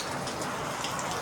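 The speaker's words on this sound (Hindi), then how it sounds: "बहुत तेज बारिश होने लग गई है। आवाज़ आ रही होगी" Heavy rain falls hard outdoors as a dense, steady hiss of drops striking surfaces. It is loud and continuous, with no voices over it.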